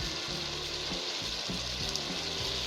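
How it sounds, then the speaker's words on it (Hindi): Marinated chicken for a Mughlai changezi dish fries in hot oil with a steady, close hiss and sizzle, and occasional stirring sounds come through. No one speaks. "उसी ऑयल में अब ये जो मैरिनेटेड चिकन है वो डालकर फ्राई कर लें।"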